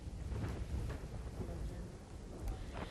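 Steady monsoon downpour over Gujarat villages, a dense hiss of rain with low rumbling thunder rolling underneath throughout.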